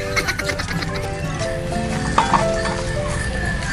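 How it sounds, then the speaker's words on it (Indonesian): Horse hooves clip-clop along a street in Jakarta's Betawi area, a steady rhythmic trot heard close by among outdoor crowd chatter and people talking. "Yuk ada kuda."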